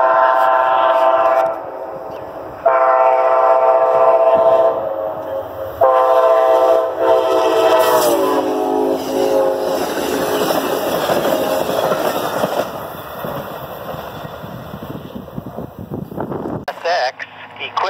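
Amtrak 284 passenger train heading eastbound at Coldwater Road, milepost 378.0, sounds several loud sustained horn blasts, then a long rumbling roar of cars rolling past close by before cutting off abruptly.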